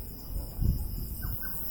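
A bird calls outdoors among mango trees, two short chirps standing out faintly over a low rumble of background ambience, with no speech.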